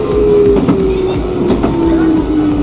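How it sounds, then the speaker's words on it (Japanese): A Nara Line train rolls into a station in Japan, a loud close rumble with rhythmic wheel clatter over rail joints and a steady whining tone as it slows, heard without talk. "停車駅の富士蔵駅に到着です。"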